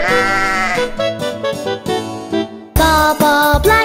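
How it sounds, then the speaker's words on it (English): A sheep in an animated nursery rhyme bleats in loud, wavering, drawn-out calls, several in a row with short gaps, close and clear with no talk over them. "Let's meet Baba Black Sheep."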